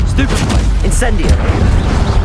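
An Incendio fire spell cast in the video game Hogwarts Legacy bursts out as a short, punchy whoosh and crackle, layered over a voice calling out the spell and other game sounds.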